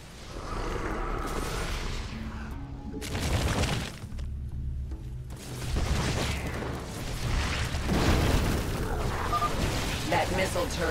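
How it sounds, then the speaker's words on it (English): A Dominion barricade collapses in StarCraft 2 amid battle, with crashing, shattering impacts and booming bursts layered over continuous combat noise and game voices. "Dominion barricade destroyed."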